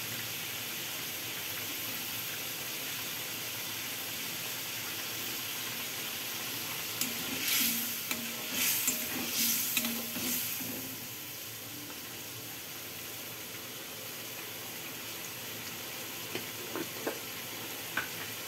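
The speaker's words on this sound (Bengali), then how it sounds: "ভালো করে কষাতে হবে, কষালেই স্বাদ হবে, সেজন্য কষানোটা ভালো করে করতে হবে।" Pointed gourd curry sizzles in a pan under a soft frying hiss, with a cluster of sharper scraping, clattering stirring strokes midway and a few more near the end.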